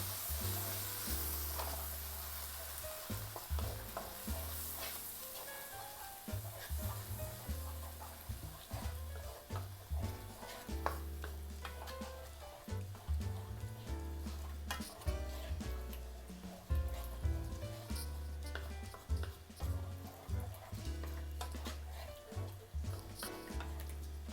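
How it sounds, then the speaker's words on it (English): Coconut milk poured into a pan of frying flour and vegetables sizzles and spatters steadily and up close, with stirring clinks and scrapes over the continuous crackle. "As the flour begins to just get mixed in with the veggies, we're going to go ahead and slowly add our coconut milk."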